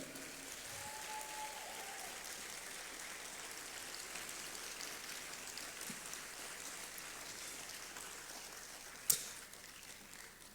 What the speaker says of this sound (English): A bigger round of applause, ladies and gentlemen.